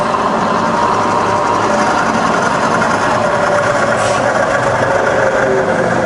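A rebuilt Bridgeport milling machine runs steadily in low range, giving a constant broadband motor hum and mechanical rumble, close and even throughout with no pauses.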